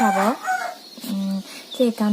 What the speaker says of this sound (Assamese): চাগে মুৰ্গী চুৰ্গী মাতিছে ৰাতিপুৱা